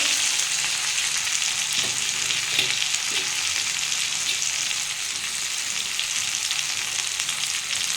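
Potatoes, beans, carrots and tomatoes fry in a pan with ginger paste, giving a steady, dense sizzle that runs the whole time, with a few faint stirring knocks near the start.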